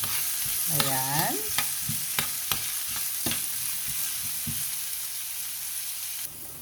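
Garlic and onion sauté in a hot pan for salmon adobo, a steady sizzle broken by sharp scrapes and clacks of a stirring utensil against the pan.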